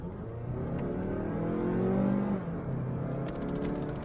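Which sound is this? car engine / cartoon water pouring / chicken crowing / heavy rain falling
car engine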